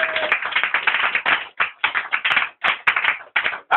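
A church congregation applauds together in a dense, steady patter of clapping that comes in uneven waves with brief dips, fairly loud and close, with no voices over it.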